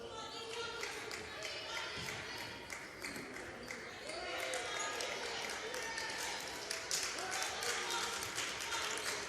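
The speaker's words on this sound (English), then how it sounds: "And there's the clap" Crowd at a girls' high school basketball game in a packed gym clapping together in a steady rhythm, a dense roar of cheering and voices running underneath the repeated claps.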